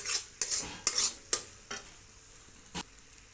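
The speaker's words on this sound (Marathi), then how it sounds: "ह्या धनियाला आपण थोडंसं गरम होऊ द्या जरा आता गॅस मी फास्ट करते चांगला एकदम मसाला असा भाजून घेते" Coriander powder masala roasting in a hot pan is stirred with a utensil, giving several quick scraping strokes over a soft sizzle, close by and without speech.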